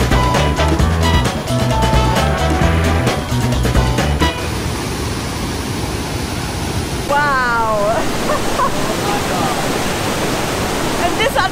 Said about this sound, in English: because the water is just hammering down there